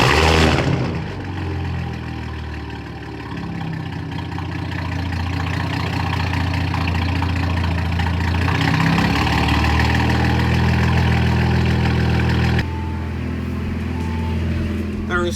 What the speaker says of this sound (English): On the 93 file, should we do a cold start inside?